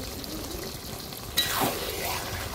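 Fried spice mix going into a sizzling pan of fish-head and pui stalk chorchori, with a sudden burst of hiss midway that stays loud and close after a low steady background.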